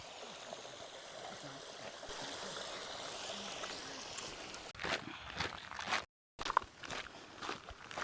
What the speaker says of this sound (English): we have found running water. A better waterfall